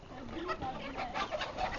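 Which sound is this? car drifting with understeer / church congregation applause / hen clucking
hen clucking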